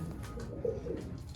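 A brief low coo from rooftop Sialkoti pigeons, one soft murmuring call, fairly faint and alone.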